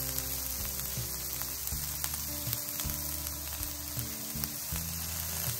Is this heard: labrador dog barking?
no